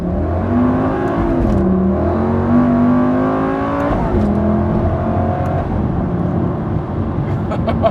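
A Lamborghini Huracan Superleggera cruises on a long road trip, its engine droning steadily from inside the cabin with rising and falling tones as it shifts, continuous and fairly loud throughout.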